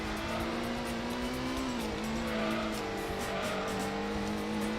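A race car engine in Gran Turismo 1, racing in rain, drones loudly and continuously, its pitch holding steady with slight rises, over a dense wash of background noise and music.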